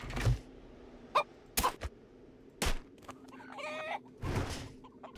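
A chicken penned in a coop in the zombie survival game 7 Days to Die clucks in several short bursts. Knocking thuds break in between the calls over a steady low hum.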